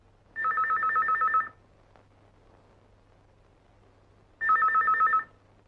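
A telephone rings after a number is dialed: two clear, close electronic ring bursts about a second long, separated by a pause of roughly three seconds, over a faint low hum.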